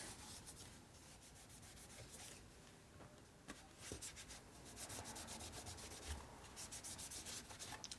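A shop rag rubs and wipes across an engine gasket surface on a 650cc single-cylinder Sportster race bike, making faint, steady scrubbing strokes close by with a few brief scrapes.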